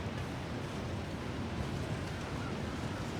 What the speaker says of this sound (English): Oh, that's the waterfall.